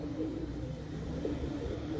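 Teddy pigeons, including a champion bird, give soft, low cooing calls that repeat in a murmuring rhythm against a quiet background hum.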